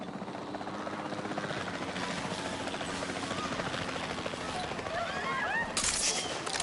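A capture-team helicopter in a video game thrums loudly and steadily throughout, with brief sharp crackling and chirping sounds layered in near the end.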